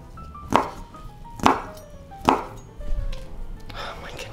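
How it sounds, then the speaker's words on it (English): A knife cuts home-style garlic sausage into cubes on a board. Three sharp, evenly spaced chops land close by, followed by softer cutting noises. "So I'm just gonna cut them up into little cubes."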